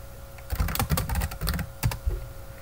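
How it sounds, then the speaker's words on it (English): Quick, uneven clatter of keys as a password is typed on a computer keyboard at a Linux shell, close and clear, with short pauses between bursts and no talking. "Type in my password properly."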